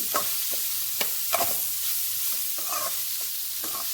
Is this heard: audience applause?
no